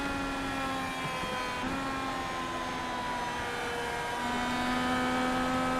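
Number 99 race car engine holding fourth gear on track, a steady droning whine with harmonic tones that dip briefly and then climb again, loud and continuous with no talking.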